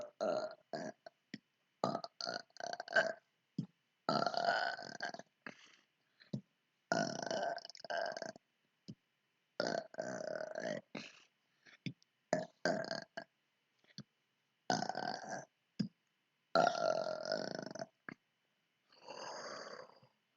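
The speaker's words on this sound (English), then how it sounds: "flashlight burp" A person produces a long series of drawn-out and short burps, loud and close, with brief silences between them and no talking.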